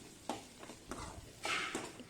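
Onion and tomato are sautéed in oil with fennel seeds in a pan, heard as several separate stirring scrapes with a faint sizzle beneath, fairly quiet and close.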